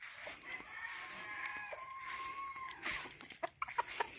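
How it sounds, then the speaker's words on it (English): Free-roaming chickens on Kauai cluck and squawk nearby, with a drawn-out rooster-like call in the middle and a burst of quick clucks near the end, over faint outdoor background. "Oh, and look at all that chicken."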